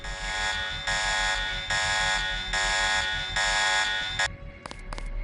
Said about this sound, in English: Hey, thanks, alarm.